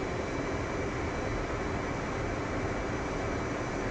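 Jet aircraft engine throttled up to push onto a carrier catapult, a loud, steady roaring rush with no break, close and unchanging.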